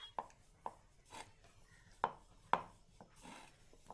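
A rolling pin works dough on a wobbly board, knocking with sharp wooden taps roughly every half second, close and fairly quiet, with light rubbing between the knocks and no talk.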